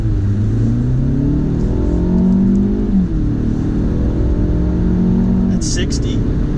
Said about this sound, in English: Nice acceleration on that.